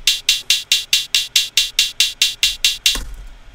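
Hi-hat sample pitched down to C2 in Logic Pro Ultrabeat, a steady run of about a dozen evenly spaced, crisp hissy hits played alone, ending with a soft low thump.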